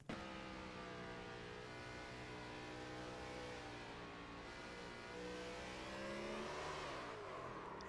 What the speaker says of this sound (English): You can hear him starting to work the throttle.